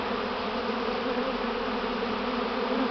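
A dense, steady buzz of many bees swarming at a hive, constant and close with no talking.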